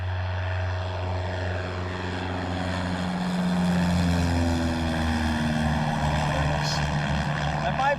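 A propeller airplane passes overhead, its steady engine drone sliding down in pitch as it goes by, loud and continuous throughout, heard on a bee farm with thousands of hives.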